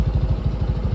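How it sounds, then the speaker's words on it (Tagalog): A Honda Giorno 160 scooter exhaust pipe, a steady, rapid low throb of engine pulses, close and fairly loud, with no voices. "Lumabas yung tunog ng pipe niya na napakaganda"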